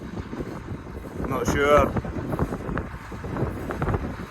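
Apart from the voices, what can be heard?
wind blowing into the microphone outdoors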